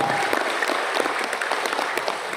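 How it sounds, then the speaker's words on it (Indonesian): A crowd of small-business owners at a Magetan gathering breaks into applause, a steady, dense wash of clapping held evenly throughout, with no talk over it. "Tepuk tangan untuk kita semua."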